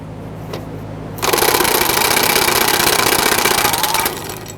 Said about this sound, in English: I'm going to switch over to our air tools to speed things up a little bit